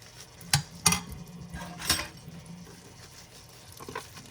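Stainless steel spoons and forks scrubbed with a wire steel mesh dishwashing cloth, giving a few sharp metallic scrapes and clinks near the start, then softer rubbing, close and without talk.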